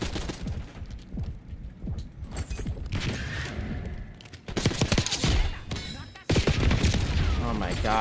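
Sustained automatic fire from a Tanto 22 in Black Ops 6 comes in long, dense bursts with brief pauses, loud and close, later growing even louder.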